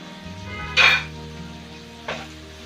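Spices and chili powder frying in a pan give one short burst of sizzling and stirring, a quieter scrape follows, and a low hum sits under both.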